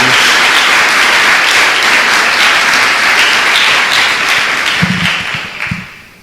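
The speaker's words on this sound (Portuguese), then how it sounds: "Dê mais uma salva de palmas ao nosso Deus." A church congregation applauding in praise, loud continuous clapping filling the room, with a few voices breaking through before it fades out at the end.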